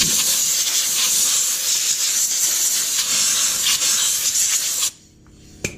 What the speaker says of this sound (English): blow off any excess dust or debris that could get down in the airbox